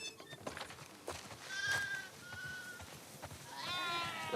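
Sheep bleat in The Last of Us Part 2 video game, a few wavering calls rising over a quiet outdoor farm background, with one louder bleat toward the end.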